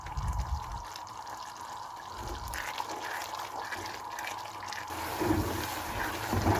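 Water pours into a pan of chickpea gravy for Lahori chana, a steady splashing trickle lasting several seconds, close and moderately loud with no talk.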